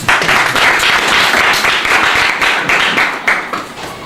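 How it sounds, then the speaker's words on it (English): A crowd claps steadily in sustained applause, dense and loud, tapering off slightly near the end. "Donc on applaudit une fois de plus."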